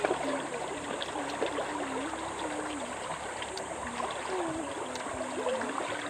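Provincial river in Bagong Silang where people bathe, the water flowing and trickling in a soft continuous wash, faint and steady, with distant indistinct voices now and then.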